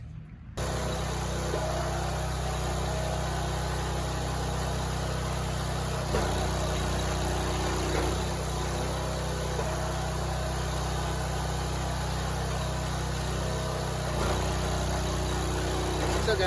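A Wolfe Ridge log splitter engine runs at a steady idle after fresh slides are fitted, a loud continuous mechanical drone with a constant hum and no talk over it.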